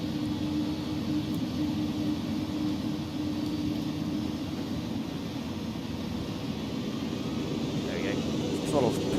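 Airliner engines in X-Plane 11, on a FedEx cargo flight out of San Francisco, hold a steady broadband roar with a low drone through the whole stretch as takeoff power builds.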